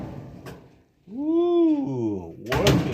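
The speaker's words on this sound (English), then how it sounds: "Open the door." A clothes dryer door is opened during a repair of a dryer whose motor would not start. A short mechanical thunk comes near the end, after a rising and falling vocal-like tone.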